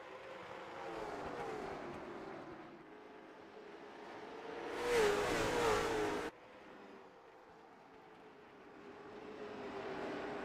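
Late model race cars racing at Slinger in iRacing, a steady engine drone from a pack of close-running cars with a louder, brighter surge as cars sweep past, then settling back to a continuous hum.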